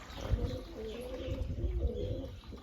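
Soft, low pigeon coos repeat in a steady murmur, with a few faint chirps mixed in.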